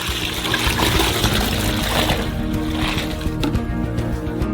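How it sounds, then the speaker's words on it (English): Milk pours steadily into a saucepan in a continuous splashing trickle, loud and close, running throughout without pause or speech. "pour 8 liters of milk into a saucepan"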